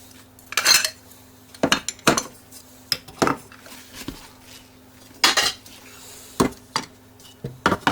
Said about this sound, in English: you can just stack your lids as needed